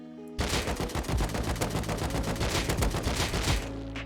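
After a short quiet start, an AK rifle in the game Rust fires a long burst of fast, loud automatic shots that runs for about three seconds before stopping sharply.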